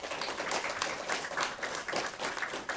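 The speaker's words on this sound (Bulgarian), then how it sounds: "Вашите аплаузи и за Радостина Николова." A ceremony audience claps steadily throughout, a dense and even wash of applause from many hands with no voices over it.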